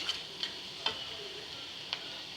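Carrot curry sizzles gently in a pan while being stirred, a soft, steady frying hiss with a few faint scraping taps of the spoon at irregular intervals, quiet and close.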